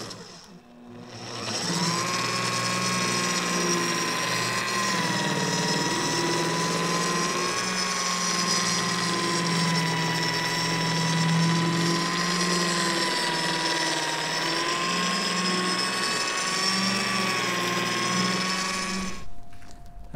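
A polishing machine with its pad held flat while buffing faded aircraft paint, a steady whirring motor drone with a stable pitch that runs unbroken for nearly twenty seconds, close and fairly loud, with no talking.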